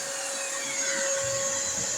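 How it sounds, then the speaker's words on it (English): A vacuum cleaner runs steadily with a constant whine and hum, continuous and fairly close, with no voices. "And the vacuum's running."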